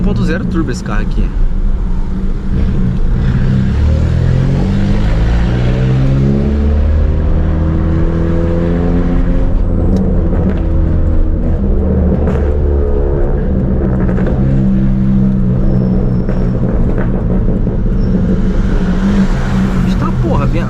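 A small 1.0 turbo car engine revs and accelerates at night, its drone climbing and falling in pitch over repeated pulls, close and loud throughout.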